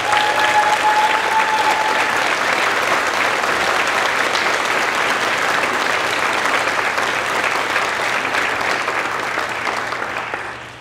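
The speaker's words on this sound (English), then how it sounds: "one more round of applause for these seniors" A crowd at a school music awards night applauds the graduating seniors with a long, loud, even wash of clapping that holds steady and tapers off only at the very end.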